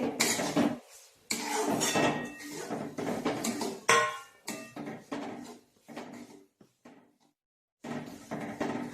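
Sesame ladoo mixture stirred in a pan: repeated close scraping and clanking of a utensil against the metal pan in uneven bursts, with short pauses and no speech.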